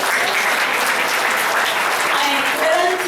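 A church congregation claps together in a steady, dense burst of applause that carries evenly for about three seconds, close and fairly loud.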